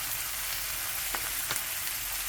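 Pieces of chicken fry in a pan for a classic French dish with grapefruit and thyme, giving a steady, fairly quiet sizzle with a couple of brief sharper crackles and no talking.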